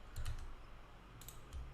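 Computer keyboard keys tapped in a few short bursts of clicks, close and fairly quiet, with pauses between groups of keystrokes.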